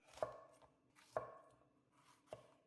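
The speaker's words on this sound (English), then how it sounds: "I like to cut these peppers on an angle, rotating as I go" A knife chops bell peppers on a cutting board in three sharp, evenly spaced strokes, close and clean against a quiet room.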